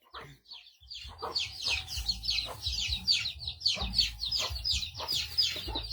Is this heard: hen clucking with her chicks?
yes